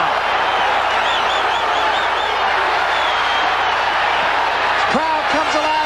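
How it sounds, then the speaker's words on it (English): A large boxing-match crowd roars and cheers for Hagler in a steady, dense wall of noise, with a commentator talking over it. "Crowd comes alive for Hagler for the first time tonight"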